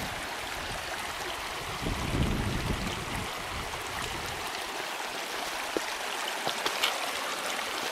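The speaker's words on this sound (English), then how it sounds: "Now I have to talk a bit louder because there's waterfalls around me." Waterfalls and a flowing stream in Wyoming nature send a steady, broad rush of water close by, with a fuller, louder surge in the middle and continuous churning throughout.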